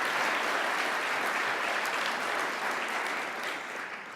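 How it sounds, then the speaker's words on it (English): Broad, sustained applause from a banquet audience at a business hall of fame ceremony honoring inductees, loud and even at first, then slowly tapering off. "Give them a round of applause."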